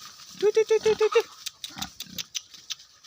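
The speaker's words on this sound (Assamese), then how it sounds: "এয়া আমাৰ গাহৰি পোৱালি কেইটা" Seven piglets grunting close by, a quick run of six evenly spaced nasal grunts followed by looser, rougher snuffles and squeaks.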